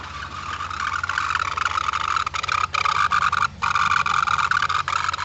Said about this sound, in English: I've never heard a pump make that noise before.